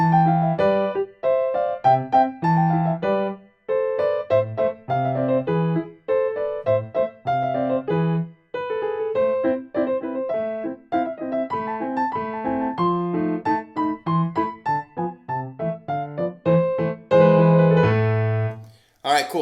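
Piano plays the second part of Mozart's Turkish March, a brisk run of crisp detached notes and chords in a steady rhythm, clear and close with no talking.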